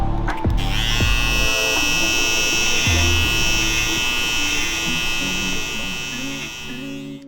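Close up, a hair trimmer with a zero-gapped, sharpened blade buzzes steadily as it cuts a hairline during a drop fade haircut. The electric hum holds for about seven seconds, with faint clicks near the start.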